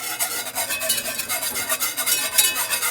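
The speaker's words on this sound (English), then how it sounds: "whisk that in some more" A whisk beats rapidly through a sauce in a pot, giving a steady, close, rhythmic scraping and swishing that continues without pause and with no talk over it.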